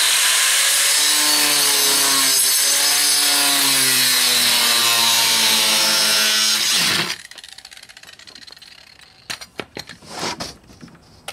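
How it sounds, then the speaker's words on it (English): A small 4-inch angle grinder cuts through tile backing board, a loud, close, continuous high whine with rising and falling pitch for about seven seconds, then it stops and is followed by scattered knocks and handling sounds. "to cut it, I'm just going to use my little 4-inch grinder"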